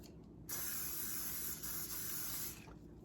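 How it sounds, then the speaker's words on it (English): Cooking spray hisses steadily into a mug for about two seconds, a close, continuous burst that starts abruptly and cuts off cleanly. "we spray our mug."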